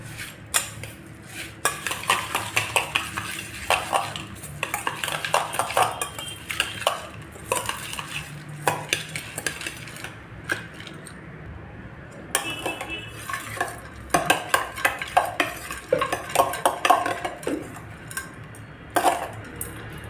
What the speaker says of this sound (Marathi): आता हे सर्व आपल्याला व्यवस्थित असं मिक्स करून घ्यायचं आहे